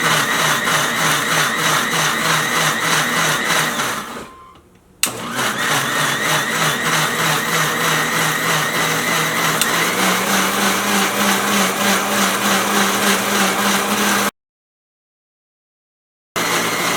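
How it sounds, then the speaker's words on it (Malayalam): A Philips mixer grinder whirs loudly as it blends peeled oranges into juice, running steadily, dipping briefly as it pauses, then resuming at full roar before cutting off abruptly. "ഇപ്പോൾ ഞാൻ ജ്യൂസ് അടിക്കാൻ വേണ്ടിയിട്ട് എടുത്ത മിക്സി ഫിലിപ്സിൻ്റെ മിക്സി കേട്ടോ."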